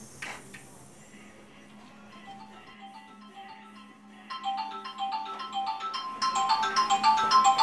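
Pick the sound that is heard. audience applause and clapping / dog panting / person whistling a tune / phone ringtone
phone ringtone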